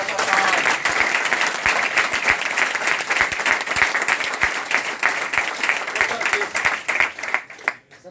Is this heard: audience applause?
yes